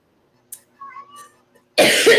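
A person on a live stream lets out one sudden, loud, close cough after a near-silent pause with a few faint noises.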